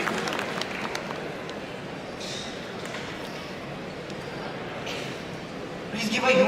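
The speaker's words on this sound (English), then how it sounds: "Please give a huge round of applause for that wonderful speech by our esteemed alumni" Applause from an audience at a college hackathon opening ceremony after a speech, a soft, steady patter heard from a distance that swells a little louder near the end.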